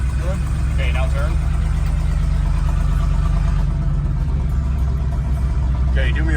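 An old farm truck with a manual gearbox hums steadily as it accelerates through a turn, a loud low engine drone throughout with brief voices talking over it.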